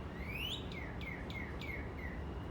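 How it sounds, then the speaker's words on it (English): A mockingbird sings a series of clear, rising and falling whistled phrases, repeated several times over a steady wash of background noise. "Oh, we got a mockingbird."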